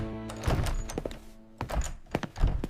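A heavy thud of a footstep lands on a wooden floor, followed by a few softer knocks and bumps spaced out in a quiet room, close and fairly muted.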